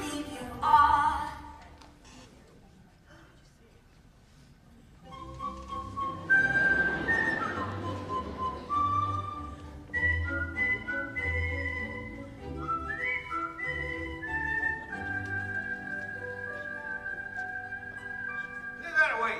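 A woman whistles a tune in a period stage musical scene, a clear melodic whistle with sustained and gliding notes, close, following a stretch of singing voice and some low background.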